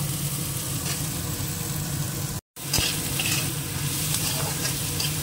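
Oil and ingredients sizzle and crackle in a pan before chicken goes in for a green chilli chicken dish, a constant close frying hiss with stirring scrapes, interrupted by one brief cut of silence.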